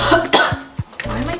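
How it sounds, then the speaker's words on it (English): A person coughs several times in quick succession, short harsh bursts close to the microphone, separated by brief pauses and soft throat sounds. "Why am I coughing lately?"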